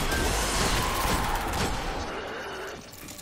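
Fatebringer hand cannon fire with explosive arc damage in Destiny, a dense burst of gunshots and crackling blasts that gradually fades out.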